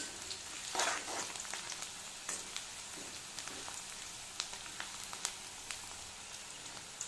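Crushed garlic fries in oil for tomato rice with a soft, steady sizzle and a few scattered crackles and stirring clicks. The sound is faint and close, with no voices over it.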